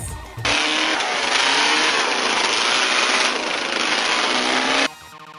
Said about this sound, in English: Motorized chariot racing.